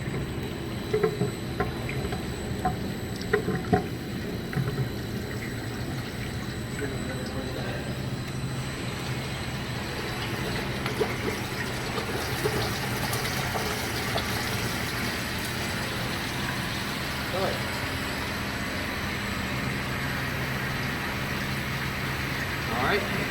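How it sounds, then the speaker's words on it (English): Water rushes steadily from a reprimed pump through a keg washer and filler during a clean-in-place cycle. The hiss is constant and even, with someone talking over it. "Reprime the pump, and we're just going to start sending this water through."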